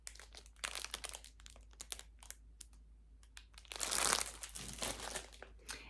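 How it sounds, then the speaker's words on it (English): Plastic packaging crinkles in bursts for several seconds while cross-stitch supplies are handled, with a louder, denser stretch of crumpling near the end and no talk. "I'm sorry for the crinkling."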